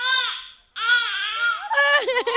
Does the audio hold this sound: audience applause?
no